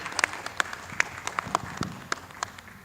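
Scattered applause from a small audience at a student English storytelling competition, a few distinct claps spaced irregularly over a quiet room, sounding thin and sparse rather than a full ovation.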